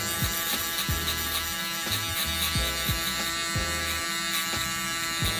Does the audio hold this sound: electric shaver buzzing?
yes